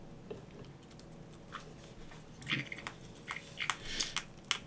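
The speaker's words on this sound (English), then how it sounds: "I like just listening to him crunch away." A pet crunches a peanut in small, sharp crunches that come in quick irregular bursts, close and quiet, growing more frequent toward the end.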